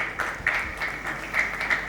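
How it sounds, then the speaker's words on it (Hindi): An audience at a Hindi comic poetry gathering applauding to welcome a poet from Banaras, a faint, thin patter of scattered clapping heard from a distance for a brief moment. "तालियों से स्वागत करें"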